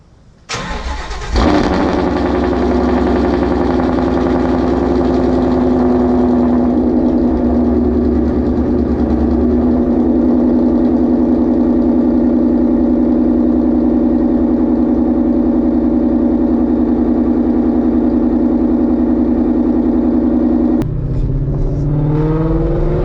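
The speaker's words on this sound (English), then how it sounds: "Let's just get a cold start, and then from there get some POV driving." A Whipple supercharged Ford Mustang engine cold-starts with a sudden catch and roar, then settles into a loud, steady, close-up idle with a constant low drone that holds for about twenty seconds before a brief change near the end.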